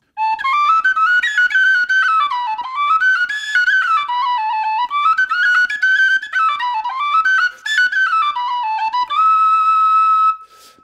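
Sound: penny whistle playing traditional music

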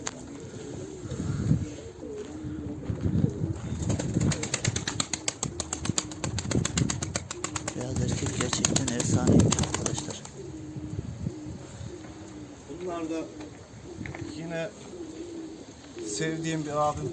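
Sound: Apollo pigeons cooing and flapping wings

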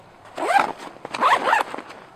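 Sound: zipper on a Maxpedition backpack admin pouch

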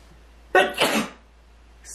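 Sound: sneeze

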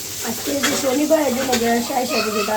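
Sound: fish frying and curry cooking on two stoves

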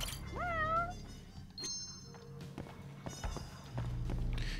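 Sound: cat meowing in the video game Judgment

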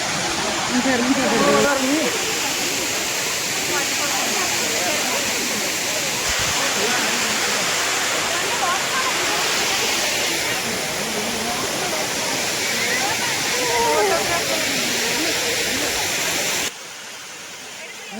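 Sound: waterfall in Kodaikanal

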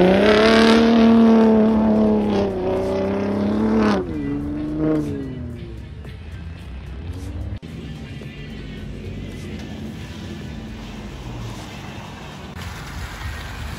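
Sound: Ford F-150 Raptor truck engine revving

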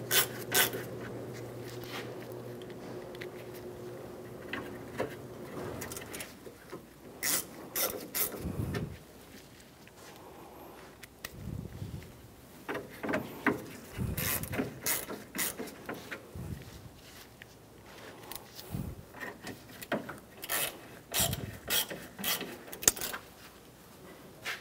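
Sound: ratchet tightening grille screws on 1997-2001 Honda CR-V

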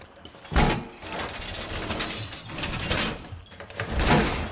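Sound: door being broken in Rainbow Six Siege video game

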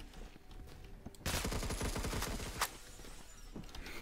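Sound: Honey Badger gun firing in Roblox Phantom Forces video game

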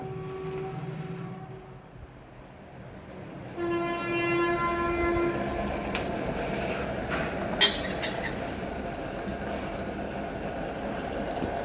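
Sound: train passing near railway station

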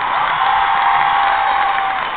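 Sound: audience applause at Mozart rock opera show

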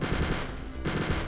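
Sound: machine gun firing bullets into a wall in Wolfenstein 3D video game

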